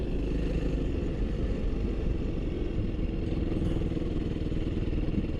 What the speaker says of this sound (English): I'm trying to have a good RPM, but also to where I don't just launch the bike